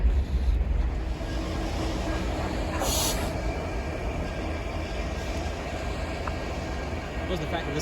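An older-engined Union Pacific local freight train grinds slowly up a grade in a canyon, a continuous low diesel rumble at moderate distance, with voices talking over it and a brief hiss partway through.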